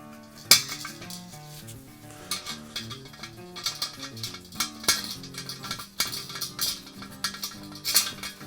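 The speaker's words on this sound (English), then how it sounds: "I'm going to add on my acorn nut." Metal washer and acorn nut fitted onto a Slow N Sear travel grill kettle, giving sharp scattered metallic clinks and taps over steady background music.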